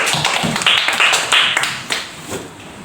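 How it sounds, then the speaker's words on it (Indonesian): A short burst of hand clapping from pupils in a classroom lesson, several quick claps close by that then fade out, with a little talk. "tepuk tangan dulu"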